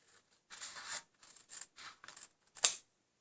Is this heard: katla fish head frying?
no